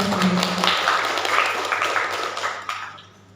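Applause for the two candidate pairs at a student presidential election debate, a scattered round of clapping in a hall that fades out over a few seconds.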